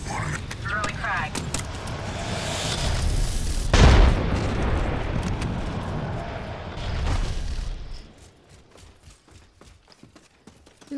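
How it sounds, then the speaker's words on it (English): A frag grenade going off in Apex Legends: a single loud, deep boom about halfway through, set within continuous loud in-game clatter and shooting that drops away toward the end, leaving scattered sharp pops. "Throwing frag."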